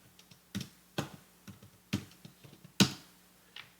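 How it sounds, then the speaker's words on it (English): Password being typed on a Mac keyboard, about a dozen sharp key taps at an uneven pace, close and clear in a quiet room, with a louder stroke near the end. "And let's type the password."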